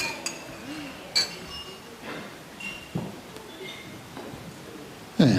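Glasses clink a few times, sharp and scattered, during a toast at a wedding reception, with room murmur and faint voices beneath.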